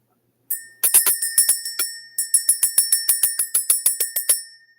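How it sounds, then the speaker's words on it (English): A bicycle-style bell rings in rapid repeated strikes, two quick series of bright metallic dings with a short pause between, each ring decaying briefly, loud and close with no talk. "Let's ring the bell."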